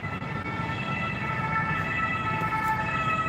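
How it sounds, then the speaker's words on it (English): A distant ambulance siren in Paris wails steadily over low traffic rumble, holding sustained tones without breaks for a few seconds. "Let's hear the sirens. It's an ambulance right there."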